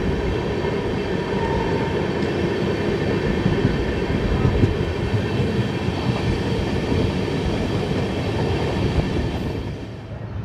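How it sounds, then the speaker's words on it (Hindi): A train rolls into Jalandhar Cantt station, a loud, steady rumble of wheels and carriages that holds for several seconds before easing off at the end. "आ गई अपनी ट्रेन जालंधर कैंट"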